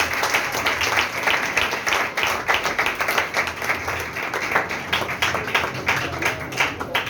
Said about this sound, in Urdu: بھائی بابر یہاں پہ ہے، میں چاہوں گا کہ اس کے لیے ذرا زوردار تالی بجائیں